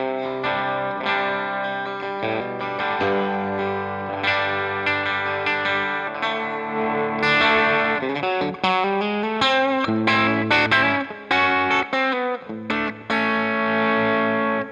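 A Gibson Les Paul Junior electric guitar plays loud, continuous crunchy overdriven chords and riffs, with a gritty, sustained tone and occasional sharp chord stabs near the end, no speech.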